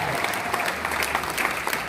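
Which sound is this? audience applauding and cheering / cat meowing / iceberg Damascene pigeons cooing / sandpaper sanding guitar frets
audience applauding and cheering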